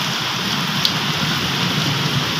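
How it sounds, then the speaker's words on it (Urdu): Heavy rain pours down in Punjab, a loud, continuous hiss and patter of drops hitting surfaces that holds steady throughout, with no voices over it. "بار بارش ہونا کافی زیادہ جڑ چکی ہے چیک کرو"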